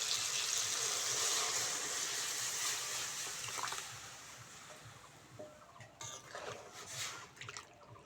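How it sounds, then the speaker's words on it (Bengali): Cooked lentils (dal) poured into a pan of fried tomato, giving a loud wet sizzle and splatter that fades into quieter bubbling and scattered clinks. "এবার ডালটা দিয়ে দেবো।"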